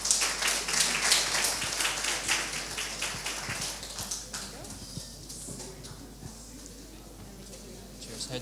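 Conference audience applause for Team Glasgo from Scotland, a burst of brisk clapping that starts strong and thins out over several seconds into scattered claps and room noise.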